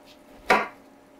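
Knife slicing through a lemon in half on a cutting board in a kitchen, a single brief crisp cut with a short thud, close and alone against quiet room tone.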